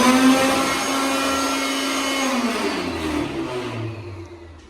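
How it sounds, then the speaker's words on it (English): Hand dryer in a gas station bathroom in Indiana switching on with a loud whirring blast that holds steady, then winds down in pitch toward the end, close by with no talk. "Listen to this hand dryer turn on."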